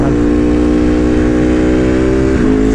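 Ducati Panigale V2 sport motorcycle engine held at a steady, loud, close rev with a smooth, even drone and a brief dip in pitch just before the end.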